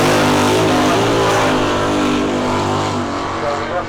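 A Ford Mustang drag car launches down the strip at a raceway, a loud, dense engine roar that stays strong and close for a few seconds before slowly fading, with no talk over it.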